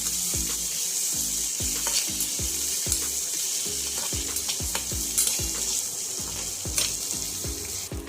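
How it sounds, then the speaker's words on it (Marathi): Green chillies and other thecha ingredients roasting in a hot pan, a steady crackling sizzle broken by regular scraping strokes of a spatula stirring them, close and alone without talk. "मिरची पण अशी छान भाजल्या जाईल अशा प्रकारे सगळं साहित्य छान भाजून घ्या"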